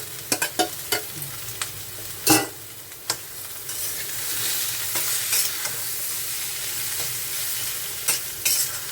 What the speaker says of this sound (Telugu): ఇప్పుడు దుంపలు వేసేసుకుందాం. దుంపలు అన్నీ మెదక్ పెట్టుకున్నాం కదా,